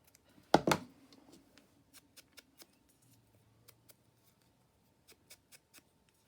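Scissors snipping small white bits of paper for a craft journal. One louder handling noise comes first, then a steady run of short, crisp cuts at close range.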